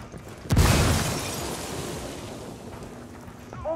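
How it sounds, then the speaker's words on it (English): A single loud in-game explosion from Ghost Recon Wildlands bursts near the start with a deep boom and crackling debris, then rumbles and fades slowly over several seconds. "algo acaba de estallar ahí"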